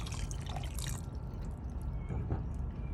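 Apple cider vinegar is poured into a pan for maple onion jam, a steady liquid splash and drip heard close and fairly quiet over a low background hum, with no talking.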